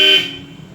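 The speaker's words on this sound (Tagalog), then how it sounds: "Yan po yung original na Bosch Europa horn." A genuine Bosch Europa car horn gives one short, loud, bright honk that ends quickly and leaves only faint background noise.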